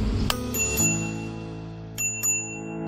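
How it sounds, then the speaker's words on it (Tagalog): A MAX PEV T10 electric scooter's handlebar bell rings with a few bright metallic dings, first a quick cluster and then two more strikes after a short pause, each ringing out briefly. "Yan yung tunog ng bell."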